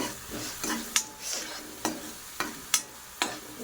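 A spoon stirs and scrapes a veg manchurian mixture seasoned with salt and pepper in a pan, giving about six sharp clinks and scrapes over a soft, steady sizzle, with no talk.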